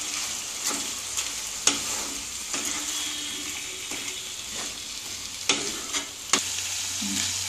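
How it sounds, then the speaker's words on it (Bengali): Tomatoes sauté in a hot pan for a vegetable curry, giving a steady sizzle with repeated sharp scrapes and clacks of a spatula stirring, close and clear with no talking. "সঙ্গে টমেটোটা দেবো, একটু কষাবো, একটু কষাবো।"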